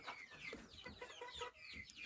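A hen set apart from the flock clucking repeatedly in short, soft bursts, close by, with faint farmyard background.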